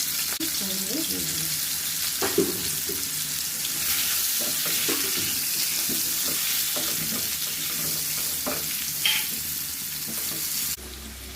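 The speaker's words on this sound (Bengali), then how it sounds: "তেল আমার গরম হয়ে গেছে। এবার আমি আলুটাও ভেজে নেব।" Potatoes sprinkled with salt fry in hot oil, giving a steady, close sizzle with scattered clinks and stirring scrapes throughout, then a sudden drop in level at the very end.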